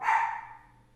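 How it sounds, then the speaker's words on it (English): A single dog bark, fairly close and moderately loud, rising quickly and then trailing off over about a second, with no talking in the clip. "oh my god, my dog is barking"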